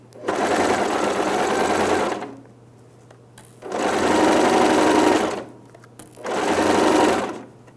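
A sewing machine stitches a hem on jeans in three bursts of loud, steady whirring mechanical rattle, each lasting a couple of seconds, separated by quiet pauses with a low hum.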